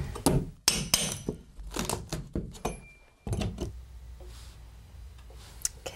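Old baseboards are pried off a wall with a pry bar and hammer, giving a series of sharp wooden cracks, knocks and creaks close by in irregular bursts, followed by quieter scraping.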